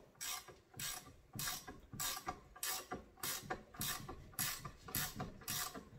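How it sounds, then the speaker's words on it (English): Fitting being threaded by hand into a 14-bolt steer axle with fine threads: a steady, rhythmic ratcheting, about ten evenly spaced bursts, close and fairly quiet, with no talking. "as you're threading it in, the fitting starts getting a little hot"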